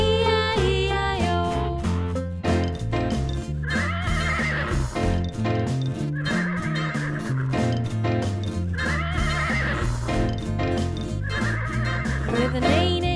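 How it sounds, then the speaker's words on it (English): Cartoon horse neighs and whinnies inside a children's nursery rhyme song, with repeated bright whinny bursts riding over loud, continuous sung music and a bouncy backing track. "And on that farm he had a horse."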